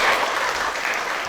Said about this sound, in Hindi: सभी के लिए जोरदार ताली होना चाहिए।